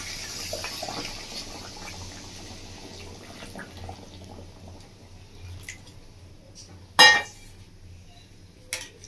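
Hot water pours and sloshes into a pot of lentil curry for Bengali-style lentil fritters, a continuous liquid rush, then a sharp clank of a utensil against the pot and a later smaller knock.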